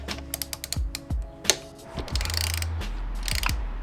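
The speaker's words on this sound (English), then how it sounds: "we're gonna loosen these bolts up. Do them one at a time." Ratchet clicking in short bursts as bolts on a Ducati motorcycle's stock reflector are loosened one at a time, close and fairly loud with metallic knocks between strokes.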